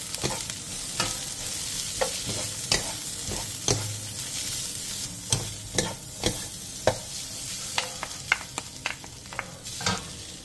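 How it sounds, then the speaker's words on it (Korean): Fish cake and minced garlic stir-fry over high heat in an oiled pan, giving a continuous sizzle broken by frequent sharp scrapes and taps of a spatula in an irregular rhythm. "팬에 기름을 두른 뒤 어묵과 다진 마늘 1스푼을 넣고 센 불에서 2-3분"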